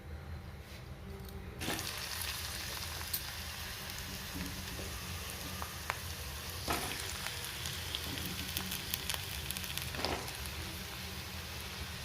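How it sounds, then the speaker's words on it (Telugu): Bitter gourd pieces frying in hot tempering oil give a continuous crackling sizzle that jumps louder as they go into the pan, with scattered pops and spatters, close up and with no voices. "పోపు చేసుకొని ఈ పోపులోనే కాకరకాయ ముక్కలు కూడా వేసేసుకోవాలి"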